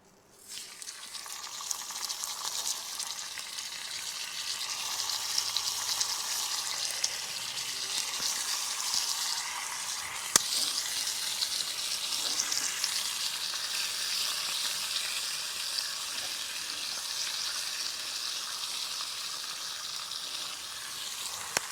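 Bacon frying in a pan over a fire at a camp breakfast, a steady bright sizzle that carries on without a break, with an occasional faint tap of the pan.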